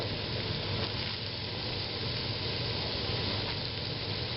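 Diced onion fries in garlic oil in a skillet with a dense, steady sizzle and hiss throughout, close and even, with no talking.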